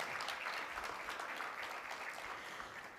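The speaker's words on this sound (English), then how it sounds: "Let's give them another round of applause." Applause from an audience at the opening plenary of a leadership summit, a steady wash of many hands clapping throughout, moderately loud with no talk over it.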